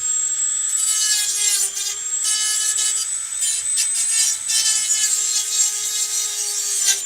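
A Dremel rotary tool cuts into a computer motherboard's circuit board with a loud, steady high-pitched whine and grinding rasp. The sound runs continuously, close up and alone.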